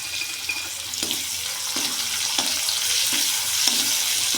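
Chopped onion and garlic sizzle steadily in hot oil for a garlicky fenugreek (lasuni methi) dish, with a continuous close frying hiss and a few soft stirring scrapes.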